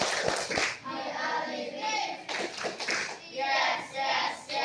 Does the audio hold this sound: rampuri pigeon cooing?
no